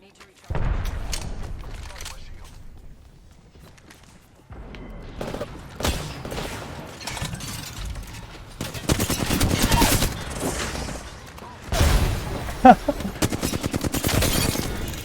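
Bursts of gunfire in Apex Legends, rapid automatic volleys and booming shots coming in clustered waves, loud and close, with gaps of quieter play between them.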